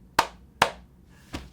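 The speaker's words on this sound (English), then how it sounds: "I must clap for you." Three sharp hand claps in a quiet room, two close together and a softer third after a short pause.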